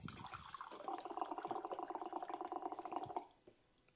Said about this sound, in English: I simply open my spigot,